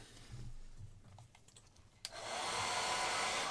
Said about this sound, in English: So let's just get my hair dryer.